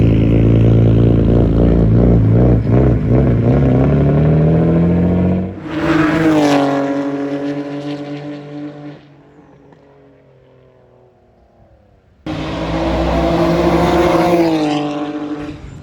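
A freshly built Nissan Skyline GT-R with a rowdy, hard-cammed engine, painted in the 2017 GT-R color, revving loud and close on a track day in Thailand, screaming up through the revs in bursts, dropping to a lumpy idle, then roaring again.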